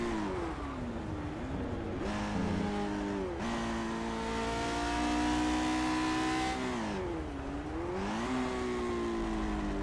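Simulated Lotus 49 race car engine in Project Cars, loud and continuous, revving high and bouncing off the limiter with pitch dips and climbs through gear changes, heard alone.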